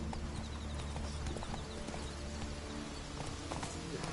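The hooves of Roach, a horse in a video game, drum out a steady galloping clip-clop beneath a constant, dense layer of game ambience, moderately loud and continuous throughout.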